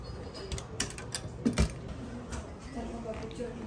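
A locker key is taken with a few light metallic jangles and clicks, close and brief, sounding among quiet room ambience.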